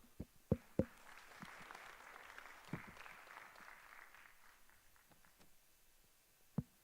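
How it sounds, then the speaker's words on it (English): An audience at a maritime safety event gives a round of applause, moderate and fairly brief, with a few sharp knocks at the start and end and the clapping fading out. "Let's give a round of applause to welcome Mr."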